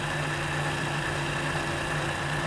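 A Honda Super Cub motorcycle engine putters slowly at low speed in high gear, a steady, close, low drone with an even rumbling texture and no voices.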